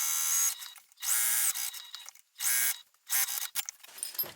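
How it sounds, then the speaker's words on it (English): A sewing machine bastes a backpack slip pocket around its sides and bottom in several short, fairly quiet bursts of buzzy stitching separated by brief pauses. "Now I'm just going to baste this slip pocket around the sides and the bottom."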